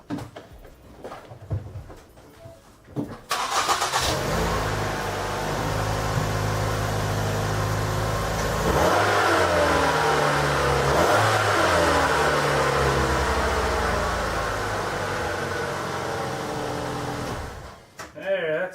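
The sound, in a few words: Mercury Mariner or Ford Escape engine running with new muffler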